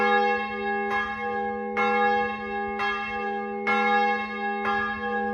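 Easter church bells peal steadily, strikes landing about once a second with long ringing overtones that hang between them, clear and fairly close.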